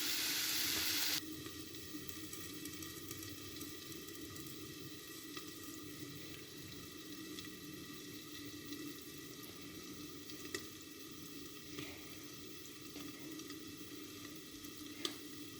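Egg roast masala sautés in oil with no water added, a faint steady sizzle close by after a brief louder burst at the start, with occasional soft clicks and no speech.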